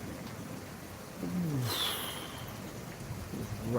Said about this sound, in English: The rain's really picking up.